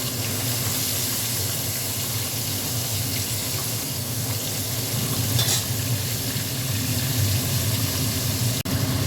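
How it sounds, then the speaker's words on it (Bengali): Pomfret fish sizzles and crackles steadily in hot oil, a dense continuous frying hiss with a brief clatter near the end and no voices. "দেখো মাছটা ভেজে নিচ্ছি।"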